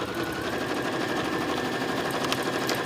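A sewing machine quilts a flex foam bag panel, a steady fast mechanical rattle running continuously up close with a faint hum underneath and no talk.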